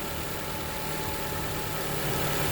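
A 2021 Toyota Highlander Hybrid engine idles steadily, a continuous low hum and rumble with no revving or change in pitch.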